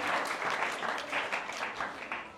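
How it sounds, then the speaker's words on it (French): A church congregation claps in praise, a brief, fairly soft patter of many hands with a loose rhythmic pulse, fading slightly toward the end. "On applaudit très fort pour le Seigneur."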